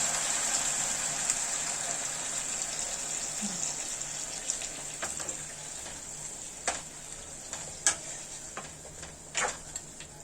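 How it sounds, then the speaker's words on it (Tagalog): Boiled water poured into a pot of chicken tinola, a soft steady gushing hiss for the first few seconds, followed by quieter scattered clicks and taps from the pot, all fairly faint with no talk. "Ilagay ko itong pinakulong tubig para mabilis lang siya."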